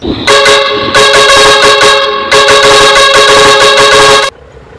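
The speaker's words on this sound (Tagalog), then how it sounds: "ito naman yung steering horn natin mga idol." A loud, bright bus steering horn in Bus Simulator Indonesia blares in three long blasts with brief gaps between them, then cuts off into quiet background hum.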